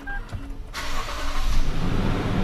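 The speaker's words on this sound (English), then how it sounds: "Foot on my brake, press the start button." A 2014 Toyota Land Cruiser V8 ZX is started with its push button, a brief starter whir giving way to the engine catching and settling into a steady, loud rumble, recorded close by from the interior with the door open.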